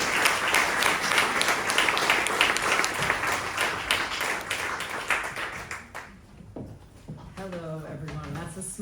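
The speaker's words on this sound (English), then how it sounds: "Give her an applause." A keynote audience applauds for several seconds, dense sustained clapping that thins out and fades, then a speaker begins talking.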